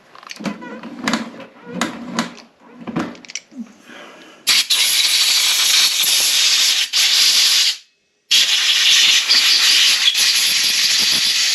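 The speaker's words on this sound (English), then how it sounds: "Let me blow that one time with the old air compressor." An air compressor nozzle blasts air at a Ryobi 4500 generator part with a loud, steady hiss that cuts out briefly and then resumes, following a stretch of speech.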